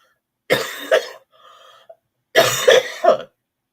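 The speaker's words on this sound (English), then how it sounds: "I don't know why I am coughing so bad this morning." Two bursts of harsh coughing, a couple of coughs each, close up, with a faint wheezy breath between them.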